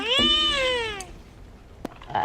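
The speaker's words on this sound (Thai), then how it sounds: "อันนี้แมวโดนเหยียบหาง" A cat lets out a single drawn-out, falling yowl lasting about a second, loud and close, followed by near quiet with a faint tap.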